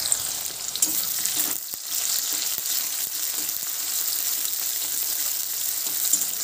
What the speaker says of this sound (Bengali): তেলের মধ্যে আমি পেঁয়াজটাকে হালকা করে ভেজে নেব